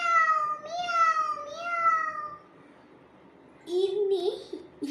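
A human voice mimics a stray cat's meow, giving three drawn-out, wavering meows in a row, a short pause, then one more strained yowl, all loud and close.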